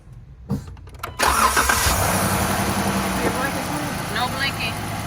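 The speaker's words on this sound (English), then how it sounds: "hook up this little LED light to the connector, crank the vehicle" Vehicle engine with a 3.6 Pentastar V6 cranks briefly, then catches and settles into a loud steady idle close by.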